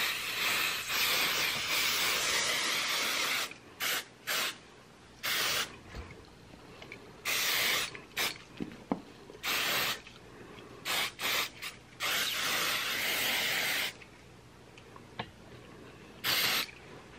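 Apple Gardé Rain and Stain Repellent sprayed from a can in repeated short hissing bursts, each lasting about a second, with brief pauses between them, close to the microphone and with no talking.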